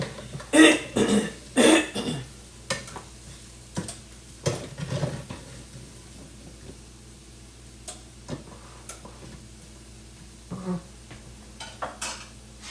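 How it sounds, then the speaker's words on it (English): Pieces of meat get shaken and stirred in a pan, giving a few loud rattling clatters up front followed by scattered lighter scrapes and taps against a soft sizzling background. "Let's give them a good shake and a stir, just to make sure the air is able to get to all the pieces."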